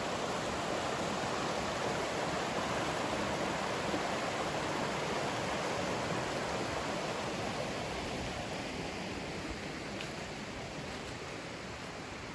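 Small mountain stream at a backcountry campsite water source in the Great Smoky Mountains, a steady, close broadband rush of flowing water that holds constant throughout with no voices.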